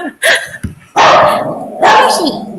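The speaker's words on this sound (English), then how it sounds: "everybody's still barking" Several dogs bark in sharp, loud bursts indoors during a livestream, with a few yips between the barks and voices talking underneath.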